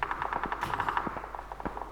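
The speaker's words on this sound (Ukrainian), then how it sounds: "АВП стріляє на мапі." Rapid bursts of AWM sniper rifle gunfire in PUBG, repeated shots in quick rhythm with a sharper crack near the middle.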